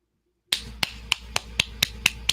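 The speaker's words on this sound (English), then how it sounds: "Oh, look at that. She's clapping." One woman claps alone at a steady, moderate pace. Eight or so crisp, close smacks follow a moment of silence, with quiet room sound between them.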